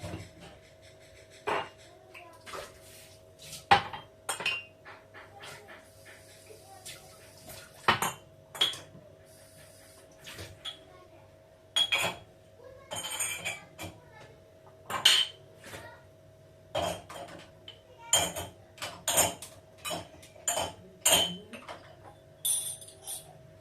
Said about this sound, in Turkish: Bulaşıkları makineye bir düzenleyeyim.